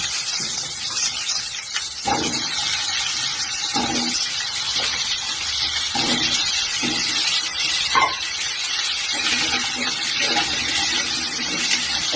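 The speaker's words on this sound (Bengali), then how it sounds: "আলুগুলো এবার ভাজতে দিচ্ছি।" Potatoes frying in hot oil in a wok: a steady, loud hiss and sizzle throughout, with occasional soft clinks and scrapes against the pan.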